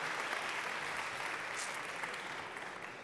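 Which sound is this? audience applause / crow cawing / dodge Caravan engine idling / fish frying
audience applause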